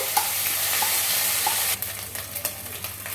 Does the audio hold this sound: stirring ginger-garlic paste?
yes